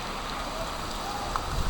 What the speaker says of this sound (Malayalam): കണ്ടില്ലേ, മഴ പെട്ടെന്ന് കൂടി.